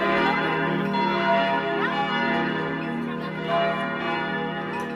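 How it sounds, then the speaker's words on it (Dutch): Church bells ring continuously in the Dutch countryside during a cycling holiday, a loud, sustained, overlapping peal of bright tones with no talking. "Klokken luiden."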